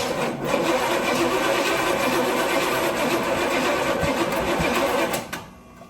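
An El Camino engine cranking steadily on ether without catching, a continuous loud whirring churn for about five seconds that stops abruptly, followed by quiet.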